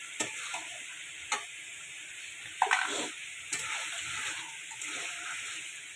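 Spices fry on high heat in a home kitchen, giving a soft, steady sizzle with a few sharp clicks and stirring knocks at a moderate distance.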